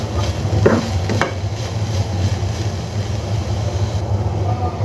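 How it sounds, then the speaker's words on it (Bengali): Chopped raw onion frying in a pan, a steady sizzle under occasional scraping stirs, with no voice. "এখন দিয়ে দিচ্ছি বেশ কিছুটা কাঁচা পেঁয়াজ কুচি।"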